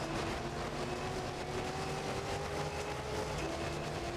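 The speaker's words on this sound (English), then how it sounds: "Even my engine sounds insane." A steady, loud engine drone from an F688/S race car in Gran Turismo 3, running on the Tokyo Route 246 circuit. It sustains a constant tone with a slight pitch rise and no talking.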